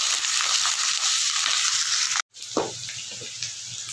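Ginger paste fries in a pan for shahi paneer, giving a close, steady hissing sizzle that drops out for a moment and then resumes with a few soft stirring knocks.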